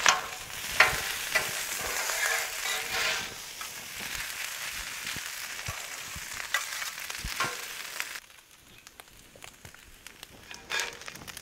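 Corned beef hash crisping on a Blackstone griddle gives a steady, close sizzle with scraping stirs and spatula taps; the hiss is dense at first, then drops to a softer crackle near the end.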